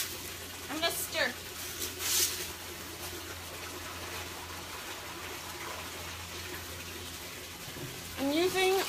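A gloved hand stirs soda ash into a container of water, making close sloshing and swishing with brief splashy bursts. A voice talks at points.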